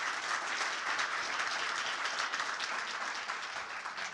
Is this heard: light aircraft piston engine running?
no